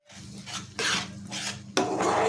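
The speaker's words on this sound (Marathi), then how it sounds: "आता हे व्यवस्थित आपल्याला मिक्स करायचं आहे" Pumpkin barfi mixture thickened with milk powder is scraped and stirred around a pan, giving repeated rasping, scratchy strokes close up with soft metallic contact, steady and alone without talk.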